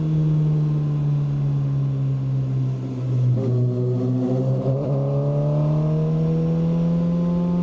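QJMOTOR SRK 450RR motorcycle ridden slowly on a rough road, a steady low engine drone with a brief swell of revs midway, close and continuous with no talking.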